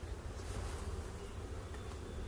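Dense, steady buzzing of many honeybees close by at a hive being fitted with honey supers, a continuous swarm hum with no other sounds.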